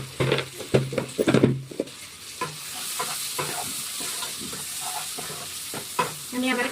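Turmeric and Kashmiri chilli sizzle in a hot pan with oil, a steady crackling fry broken by louder stirring scrapes, with a brief voice heard near the start.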